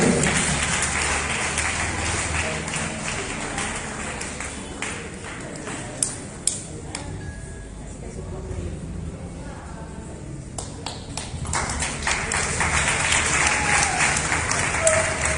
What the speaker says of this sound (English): you big round of applause?